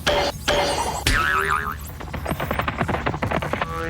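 A suction cup arrow fired from a toy bow strikes its target with a sharp springy boing that wobbles and rings briefly, followed by a short stretch of clattering, rattling noise.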